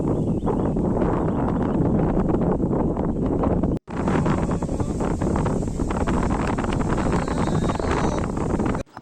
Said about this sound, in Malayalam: മഴ മാത്രമല്ല നല്ല കാറ്റും ഉണ്ട്